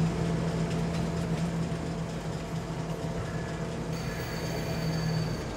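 A train rolls through the countryside in Farming Simulator 22, a steady, heavy low rumble and hum of rail cars running continuously with no voices.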